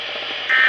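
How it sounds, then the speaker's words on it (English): NOAA Weather Radio warning alarm test tone: a loud, steady electronic tone that holds without a break and gets noticeably stronger partway through the brief burst. "The preceding signal was a test of the weather radio station's public warning system."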